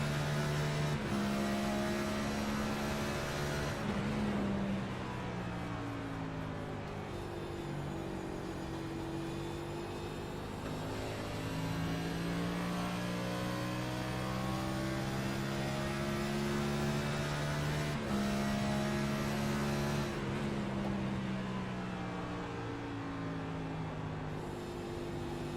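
Race car engine on an onboard lap around Gateway in iRacing, a steady droning whine that rises and falls through gear changes, continuous and close without any talk.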